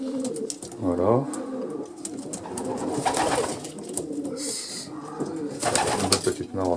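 Pigeons coo repeatedly in a loft in Coquelles, France, with several birds calling close by in overlapping throaty phrases while someone talks over them.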